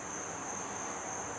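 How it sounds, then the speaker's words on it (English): Insects buzzing around a deck, a steady continuous high drone with no pauses, moderately loud and without voices. "we got a lot of bees buzzing around the deck"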